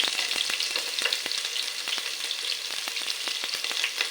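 Chopped shallots and garlic fry in a pan, turning golden, giving a dense continuous sizzle broken by frequent crackles and pops, close and steady.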